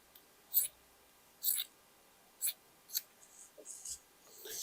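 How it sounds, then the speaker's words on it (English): Scissors snip through the stitching of a sewn garment: four or five crisp, separate cuts, then a run of softer, quicker snips and rustling fabric, all close and quiet with no voices. "And I will cut all the stitchings."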